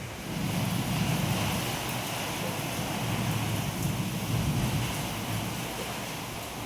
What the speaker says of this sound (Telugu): చూసారా అసలు ఎంత పెద్ద సౌండ్ వస్తుందో వర్షం.